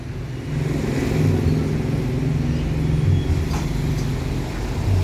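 A Harapan Jaya double-decker bus reverses with a steady, deep engine rumble close by, holding an even drone throughout with a slight swell midway and no talking.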